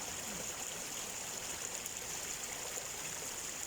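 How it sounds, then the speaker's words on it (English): Clear, free-flowing spring water runs in a small stream with a steady, close rushing and gurgling that stays even throughout, with no speech over it. "this beautiful spring, this clear, transparent,"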